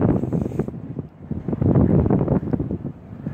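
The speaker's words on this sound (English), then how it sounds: "very, very windy" Strong wind buffets the microphone in loud, continuous rumbling gusts that rise and fall, with no voices, on a cold day around 41 degrees.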